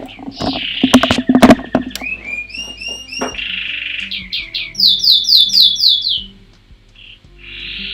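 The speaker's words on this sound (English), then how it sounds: "the birds are still very much awake in the background." Pet birds chirp and twitter in bright, rapid bursts, some trilled and repeated, fairly close, with short pauses between phrases.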